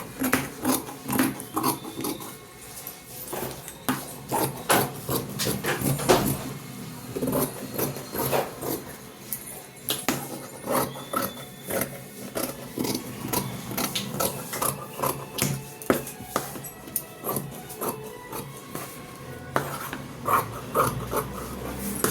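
Scissors cut through blouse lining fabric in close, repeated rasping snips and rustling cloth that keep an uneven rhythm for a long stretch, with no talking.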